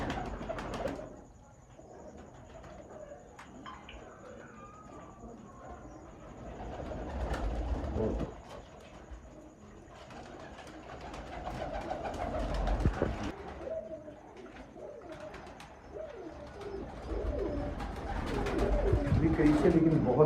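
Pigeons coo repeatedly in a breeder's loft of Sialkoti pigeons, soft rounded calls recurring through the scene while people talk nearby and background rumble rises and falls.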